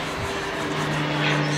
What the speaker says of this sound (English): You can hear the plane in the background.